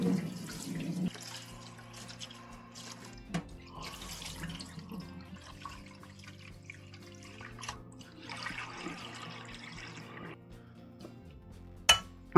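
Muddy vegetables from an allotment being washed in a sink or tub of water, with running tap-like splashing, sloshing and occasional clinks of the vegetables against the container, steady and close throughout without talk.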